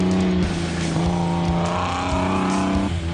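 Isuzu bakkie race truck in the Lichtenburg 200 off-road race in South Africa, its engine droning loud and close with shifting pitch as it drives, no voices.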